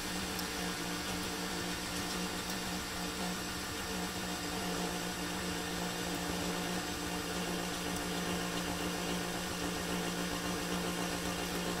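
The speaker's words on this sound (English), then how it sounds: "I'm gonna mix on low for a little bit." Stand mixer running on low while mixing pizza dough, a steady low motor hum with a faint mechanical churn, continuous and fairly quiet with no talking.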